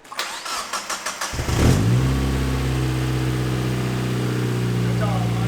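The engine of a race car, an Exocet under construction, cranks over in rapid pulses, catches and roars into a loud, steady high-rpm drone held at wide open throttle.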